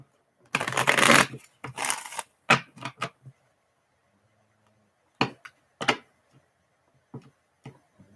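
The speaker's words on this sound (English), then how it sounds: "Let me just shuffle these cards and I'll get right to it." Playing cards are shuffled in a few quick riffling bursts, followed by soft taps and card snaps in a quiet room.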